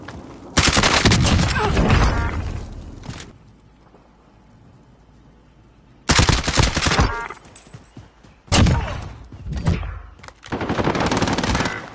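Automatic gunfire in Call of Duty Warzone on Rebirth Island comes in several loud, close bursts of rapid shots, separated by quieter stretches of low ambient noise.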